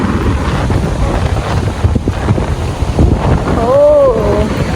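Strong wind sweeps across Port Tapilon fisherman's wharf by the sea, a steady loud roar buffeting the microphone throughout, with a brief high tonal cry rising near the end.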